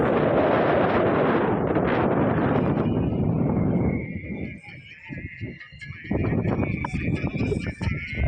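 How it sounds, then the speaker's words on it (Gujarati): Strong wind buffets the microphone atop a hilltop fort in Diu, a loud, steady roar that drops briefly midway before gusting back. Faint higher tonal sounds ride above it. "એકદમ ટોપ ઉપર આવી ગયા જ્યાં ખૂબ જ હવા આવે"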